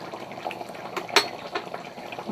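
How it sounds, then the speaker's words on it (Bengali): A cauliflower curry bubbles in a pot with a soft, steady simmering burble, close by, broken by a single clink of a utensil against the pot. "তরকারিটাও কিন্তু ফুটছে"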